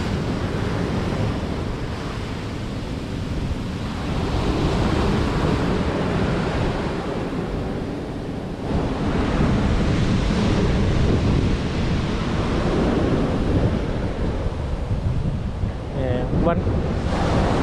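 Arctic Ocean surf rolls in under strong wind, a loud, continuous roar of breaking waves with heavy gusts buffeting the microphone throughout.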